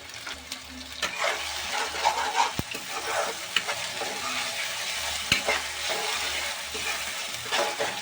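Finely chopped tomatoes with salt sizzle and fry in a pan, a steady close crackle with spoon stirring and occasional scrapes and knocks against the pan.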